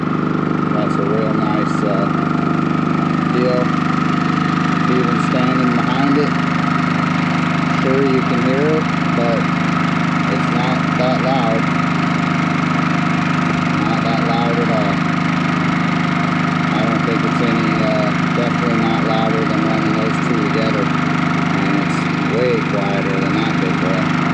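A Champion 4500-watt inverter generator with remote start runs at a steady idle, an even mid-pitched engine hum that continues unbroken while someone talks over it throughout.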